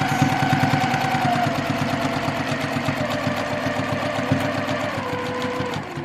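A sewing machine stitches a reversible tote bag in a rapid, even mechanical chatter that runs steadily and close throughout, slowing slightly at the end.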